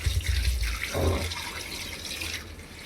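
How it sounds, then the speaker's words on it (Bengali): Tap water gushing and splashing into a basin, loud at the start and then running steadily, at a home in Haflong. "এই দেখো এসে গেছে জল"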